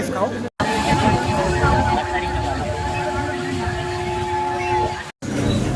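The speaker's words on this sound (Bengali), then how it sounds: "ট্রেন চলে যাচ্ছে" A train rumbles steadily past close by, a dense roar with a faint high tone running through it, voices murmuring underneath.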